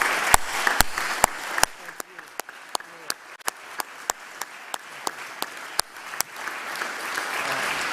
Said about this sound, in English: give Paul a real round of applause